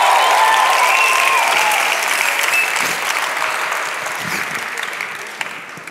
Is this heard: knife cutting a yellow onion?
no